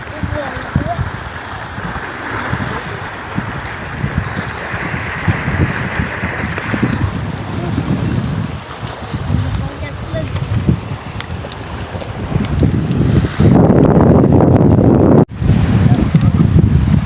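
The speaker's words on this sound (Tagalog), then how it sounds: "Dahil malakas ang hangin." Strong wind buffets the microphone throughout on a boat over murky water, with waves and water noise beneath and roaring gusts that swell louder near the end.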